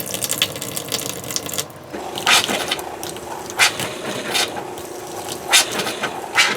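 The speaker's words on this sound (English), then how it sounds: "when I turn the pump on, it'll suck it up through." Pump in an RV water system pulling pink antifreeze through the plumbing: a steady mechanical whir with gurgling water and intermittent louder rattling surges, fairly close.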